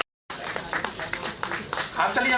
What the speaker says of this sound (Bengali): হাততালি যেন জোরে কমে গেল কেন?